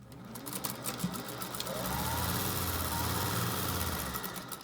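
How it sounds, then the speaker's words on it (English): Sewing machine stitching the two ends of a fabric face mask together, a steady mechanical hum that swells and holds for a few seconds at close range, running alone without talk. "So I'm just sewing these two ends together that are the ones that are even"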